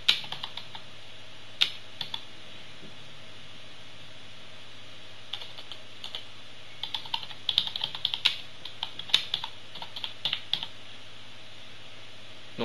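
Light, irregular keystrokes on a computer keyboard, clustering into quick bursts of typing with short pauses, close and clear with no voices.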